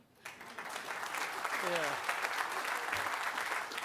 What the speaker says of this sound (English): A round of applause for coming out today in this heat.